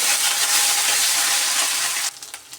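Onion paste sizzles steadily in a hot pan for most of the time, a loud broadband hiss that drops away abruptly near the end, leaving a few faint clinks and spatters.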